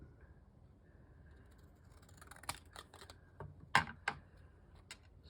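Scissors trim a small paper tag for an accordion journal, making a few soft, close snips and crisp paper cuts in an uneven rhythm against a quiet background.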